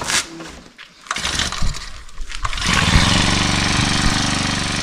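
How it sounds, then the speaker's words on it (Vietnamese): A shoulder-carried weed cutter engine in a rice field sputters through a few pulls and then catches, settling into a loud, steady buzzing run close by. "Bây giờ thì em ăn nổ máy đi."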